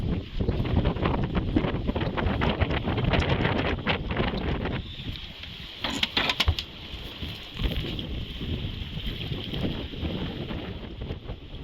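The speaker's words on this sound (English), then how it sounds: "In the evening, the wind increased to 24 knots," Heavy wind of 24 knots gusting to 30 buffeting the microphone in strong, roaring gusts by a pier in rural Sweden, loud throughout with brief lulls and surges.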